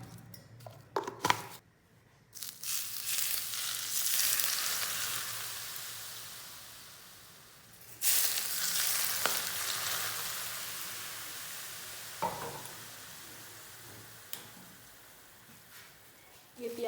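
Cumin seeds and chopped green onions hit hot oil with a bright hissing sizzle that swells in two bursts and slowly fades, close up, with someone talking quietly and a few utensil clicks.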